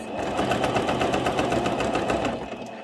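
Singer sewing machine stitching an elastic-waist skirt from a small piece of fabric, running fast in a close, even, rhythmic chatter for the whole stretch, with no voices.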